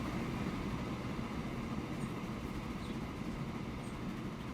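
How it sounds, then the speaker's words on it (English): Trains running along a line in the video game Transport Fever 2, a steady low rumbling rolling noise that stays loud and constant throughout with no talk over it. "Now we've effectively got two trains doing the line."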